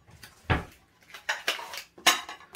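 Small plates clatter as they are taken out and set down in a home kitchen, several separate ceramic clinks and knocks spaced over a couple of seconds, close and fairly loud with no talking.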